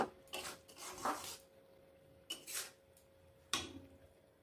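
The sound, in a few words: stirring cashew paste into chicken in a pan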